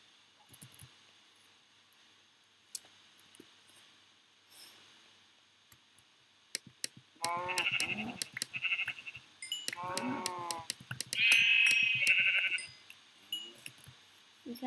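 Blocky sheep bleat repeatedly in a Minecraft-style video game, several nasal bleats in a row over sparse clicks and soft game sounds, fairly close and with no talking.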